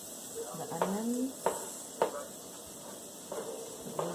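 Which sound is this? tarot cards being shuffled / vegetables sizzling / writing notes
vegetables sizzling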